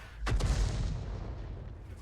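A 105 mm leFH18B2 self-propelled artillery gun fires in World of Tanks: one heavy, booming shot with a sharp onset, then a long low rumbling decay that fills the rest of the moment.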